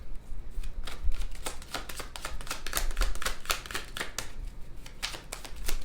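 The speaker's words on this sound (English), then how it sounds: "Let's shuffle a couple more times" Tarot cards riffled and shuffled in quick, crisp bursts of flicking and slapping, close by and steady for several seconds, with no voices.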